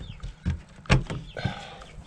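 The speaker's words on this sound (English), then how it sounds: "Hello, chickens. I hear you." Chickens on a snowy homestead morning give a few short, scattered clucks nearby, broken by a sharp thump in the middle. The sounds are brief and fairly quiet, and no one talks.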